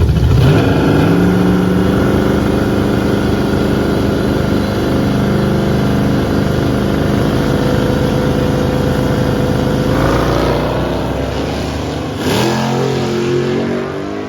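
A stock 5.3 V8 drag car on a 250-shot nitrous pass roars continuously at full throttle, loud and sustained, with the engine note climbing through gears and fading slightly near the end.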